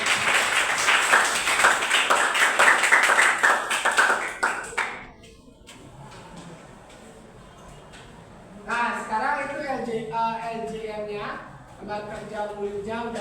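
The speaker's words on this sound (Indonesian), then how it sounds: "Oke, tepuk tangan buat kalian." Students in a high school classroom give a round of clapping, loud and dense for about five seconds before fading into quiet room tone and then talking.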